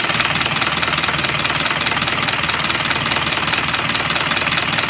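An Isuzu 4HL1 diesel truck engine starts and idles steadily with a rough, knocking clatter, running loud and close without pause.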